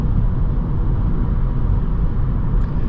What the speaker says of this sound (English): In this car I can hear more tire noise and more wind noise compared to Polo.